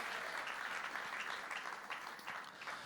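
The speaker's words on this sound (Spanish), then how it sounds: "Fuerte ese aplauso de alabanza al Señor." During a Spanish-language church service, the congregation gives a sustained round of applause in praise. The clapping is dense and even but faint and distant throughout.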